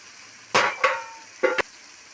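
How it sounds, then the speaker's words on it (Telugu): Peeled, washed prawns tipped into a hot pan of cooked-down masala for prawn and drumstick curry, giving three short, loud hissing bursts close by with a quiet gap between, then fading; no talking. "ఇలా మగ్గాక రొయ్యలు వేసుకోవాలి"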